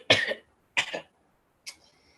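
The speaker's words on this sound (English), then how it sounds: "Ah God, this cough." Three separate coughs from one person, two full close coughs followed by a shorter, weaker one, with quiet pauses between them.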